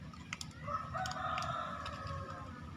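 Young fighting roosters kept in cages set close together crow nearby, one drawn-out cock-a-doodle-doo rising over faint clucking and farmyard background noise.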